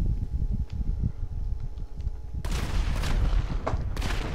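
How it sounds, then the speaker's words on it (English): A building burns inside a video game, a dense roaring, crackling rush that swells abruptly partway through and stays loud, with sharp snapping bursts over a low rumble. "Oh god, the building's on fire again."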